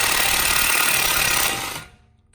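DeWalt 20 volt lithium cordless impact wrench spinning off a 32 mm axle nut on a 2014-2019 Chevy Impala front hub, a loud, rapid hammering whir that runs steadily, then winds down and stops; no talk.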